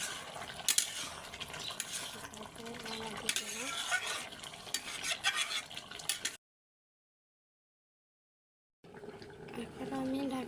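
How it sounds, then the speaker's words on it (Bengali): A spoon stirs fish curry in a pan with scraping and bubbling, under a voice talking. The sound drops out completely for a couple of seconds before the stirring resumes. "ভালো করে একটু নাড়া"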